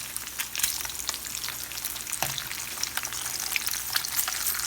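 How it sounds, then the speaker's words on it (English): Bacon strips frying in a pan over low to medium heat crackle and sizzle steadily up close, with small pops scattered through a continuous bright spatter and no voices. "it's time to turn the bacon"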